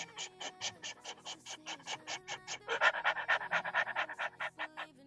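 A person imitates a panting dog during a singing breathing warm-up, with quick rhythmic breathy pants repeating steadily for several seconds, close and clear, and no talking.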